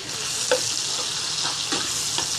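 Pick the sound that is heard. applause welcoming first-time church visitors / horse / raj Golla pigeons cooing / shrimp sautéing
shrimp sautéing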